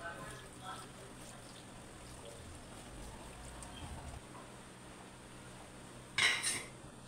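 A spoon works ginger garlic paste into a mixture in a bowl, with faint, quiet scraping throughout and one brighter metallic clink close to the end.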